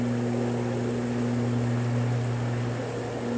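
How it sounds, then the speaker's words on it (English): A plane passes over a quiet creek in Organ Pipes National Park, heard as a steady low droning hum with a broad airy rush, continuous and fairly distant, with no talking. "Every now and again, as you can hear, a plane goes over, which just breaks that little magic spell."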